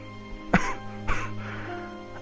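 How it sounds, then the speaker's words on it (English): Two harsh coughs close to the microphone, about half a second apart, followed by a faint throat sound over a low steady hum. "if you hear me cough a lot, it's just something I do"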